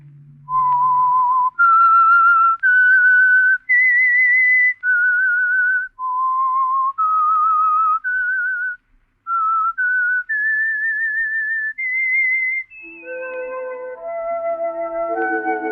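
A lone, clear whistled 1949 radio theme melody of sustained notes moves stepwise up and down, each note held with slight vibrato before gentle background music enters at the end.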